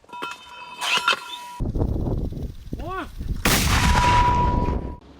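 Mortar fire near Bakhmut: two heavy booming blasts, one sharp early and another louder later, with a rumbling echo trailing after each and a brief whistling tone between them.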